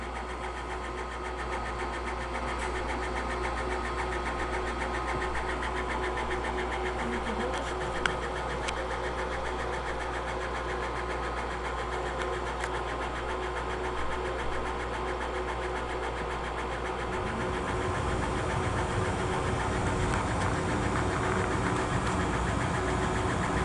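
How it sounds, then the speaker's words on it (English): The fume extraction exhaust system of a Trotec SP100 laser engraver runs continuously, a steady low mechanical hum and whirring drone at constant level throughout, with the low-end tone shifting slightly toward the end. "The sound in the background is actually the exhaust system that is working, extracting the fumes from the unit."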